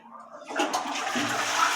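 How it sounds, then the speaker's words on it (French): A toilet flushes nearby, a loud rushing gush of water that swells and keeps churning steadily. "on tire la chasse d'eau"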